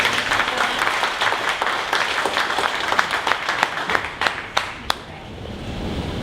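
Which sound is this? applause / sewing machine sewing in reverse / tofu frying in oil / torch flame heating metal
applause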